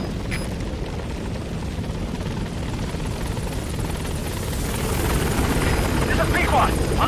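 Helicopter in the video game Metal Gear Solid V: a steady, close rotor roar with a deep throbbing rumble that continues throughout and grows slightly louder toward the end.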